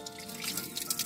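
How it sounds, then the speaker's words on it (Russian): Fresh spring water at a mountain spring drips and trickles steadily, faint and close, with a soft continuous splashing. "Свежая родниковая вода."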